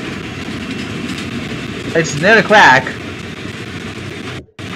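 A train rumbles past steadily in a horror video game, with a broadband clatter running throughout and a person speaking briefly over it before the noise cuts out near the end.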